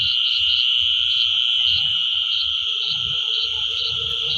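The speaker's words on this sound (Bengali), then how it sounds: "দেখেন কি শব্দ, ঝিঝি পোকার অনেক সুন্দর সুন্দর শব্দ" Crickets chirp at night on the grounds of a rice research institute, a steady, loud, high trill with regular pulses, over low rustling and croak-like sounds, with no talking.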